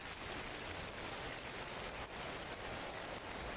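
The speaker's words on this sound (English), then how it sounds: "And now, with all the rain," Rain in the survival video game ARK: Survival Evolved, a steady faint hiss of falling water with no pauses or voices over it.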